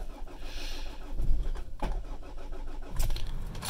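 A diesel Nissan X-Trail 4x4 with a cold-start idle fault, cranked and started with a bit of throttle: a short churn of starter and engine noise with a couple of bursts, fairly faint and close, with no talk.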